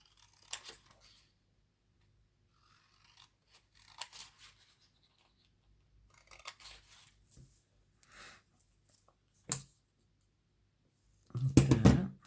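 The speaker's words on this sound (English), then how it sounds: "So we might just cut him out and see how we go." Scissors cut out a pink paper rose in a quiet craft space, with sparse, soft snips spaced a few seconds apart and a louder cluster of cuts and paper rustling at the end.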